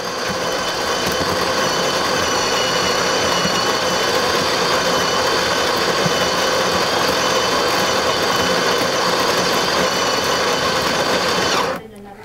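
A Delonghi La Specialista espresso machine's built-in coffee grinder runs steadily into a portafilter, a loud continuous whirring grind lasting about twelve seconds before cutting off abruptly at the end.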